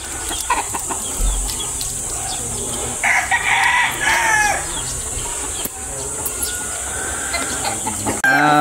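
A gamefowl brood stag crows loudly and clucks close by in a farmyard, with repeated calls and a short burst of crowing partway through, plus some faint background noise.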